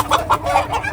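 A desi chicken clucking loudly and close in several quick, agitated bursts as it is caught.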